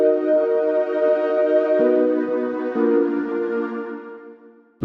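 A sustained synth chord in LMMS washed in lush plate reverb, shifting between a few chord changes and slowly fading out with a long, airy tail.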